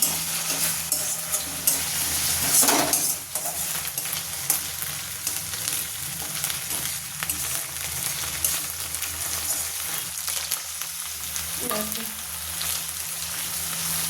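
Spice paste sizzling in a pan for fish curry, a continuous frying hiss with a couple of brief stirring scrapes, no voices.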